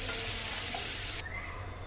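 Paneer frying in a pan with a little kasuri methi, sizzling loudly and steadily close up, then the hiss drops abruptly to a quieter sizzle partway through.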